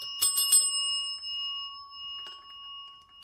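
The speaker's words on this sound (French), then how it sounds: "Les chats sonnaient une cloche pour obtenir de la nourriture." A small bell rung by cats to ask for food gives three quick bright rings, then a long fading resonant tone and a faint final tap, clear and close in a quiet room.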